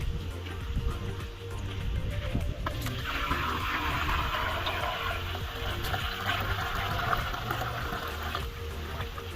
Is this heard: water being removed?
yes